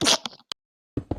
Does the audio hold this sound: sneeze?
yes